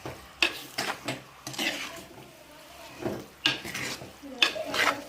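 Meat stirred in a hot pan, a spoon scraping and knocking in bursts over a soft sizzle, close and fairly quiet.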